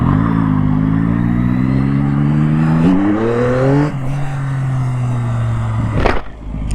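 CFMoto motorcycle test ridden on a road, its engine a loud steady drone with harmonics rising as it revs up over several seconds, then holding and dropping off near the end.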